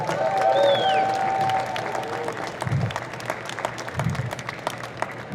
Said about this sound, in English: So give him one more round of applause, everybody.